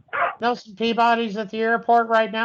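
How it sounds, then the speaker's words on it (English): A dog barks and yips in the background behind loud, continuous talk from several people on a call-in show, the barks coming in short bursts under the voices. "Who's that dog in the background?"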